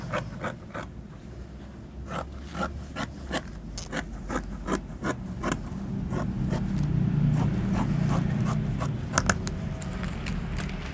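Scissors cutting through batik cloth along a paper pattern for a Jakarta ondel-ondel motif garment, heard as a steady series of crisp snips and rasping slides, fairly close, with no talk over it.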